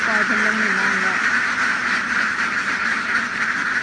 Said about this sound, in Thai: คอกนี้มีเป็ดอยู่500 ตัวเนาะนี่